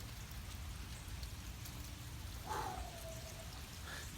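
Steady rain patters down after a huge storm in Pennsylvania around outdoor tortoise enclosures, a dense, even wash of drops throughout with a brief higher chirp or whistle partway through.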